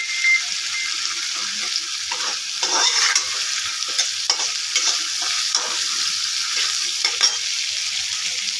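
Masala with salt is stirred and fried in a pan for a soybean biryani. A bright steady sizzle runs under repeated scraping strokes of a spatula, close and fairly loud.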